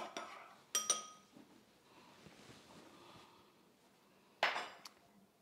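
A spoon clinks against a jar while stirring a yeast mixture for dinner rolls: a few sharp metallic taps near the start and another pair near the end, with quiet scraping between, close and fairly soft.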